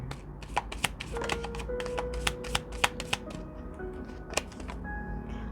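Tarot cards being shuffled by hand, a run of crisp riffling flicks and soft taps at close range, with a faint tonal hum lingering behind and no voices.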